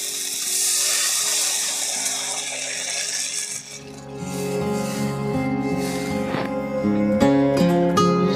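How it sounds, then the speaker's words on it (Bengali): Water poured into fried spice masala in a pan for a Bengali fish curry gravy: a close, rushing splash for a few seconds that fades as background music carries on underneath. "এবার গ্রেভির জন্য জল দিয়ে দেব পরিমাণ মতো।"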